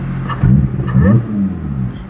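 Lotus Evora S engine revving in sport mode from inside the car, a loud, close throaty rise and fall in two quick surges over a steady running drone.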